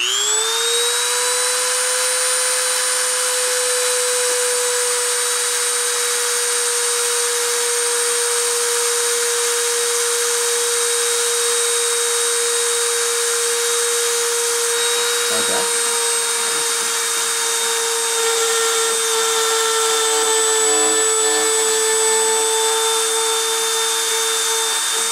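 Deposition machine spindle spinning at 30,000 RPM, a steady high-pitched whine that holds its pitch throughout, with a faint hiss and brief clicks partway through.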